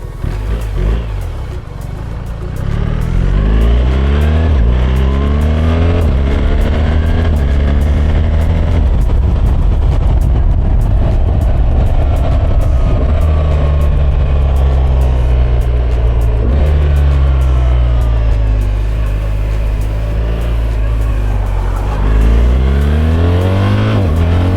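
BMW R1300GS motorcycle engine under way, loud and close, rising and falling through gear changes with steady wind rush throughout.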